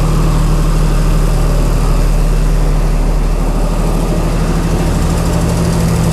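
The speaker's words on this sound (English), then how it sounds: "You don't want to idle a generator like this" Chrysler Slant 6 generator engine idling, a loud, steady low drone with a strong hum that holds constant throughout, no talking.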